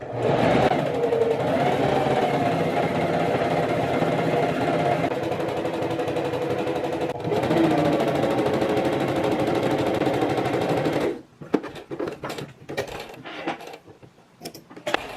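A sewing machine runs a straight stitch along fabric, a loud, steady mechanical whir lasting about eleven seconds with a brief dip midway, then stopping and giving way to a few scattered clicks and handling sounds.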